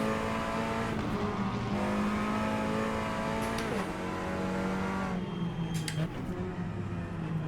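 Race car engine from the Assetto Corsa video game lapping Pacific Raceways, loud and continuous, with revs rising and falling through gear shifts and brief tire squeal near the end.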